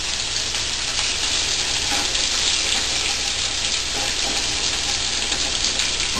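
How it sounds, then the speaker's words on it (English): Shrimp sizzle steadily in a hot pan for risotto, a dense, even frying hiss that stays loud and close throughout with no pauses and no talking. "You can hear it sizzle"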